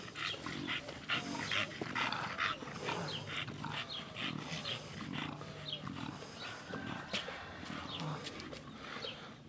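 A young bully breed dog at a kennel facility barks repeatedly and loudly, with other dogs and animal calls mixing into a busy, continuous chorus throughout.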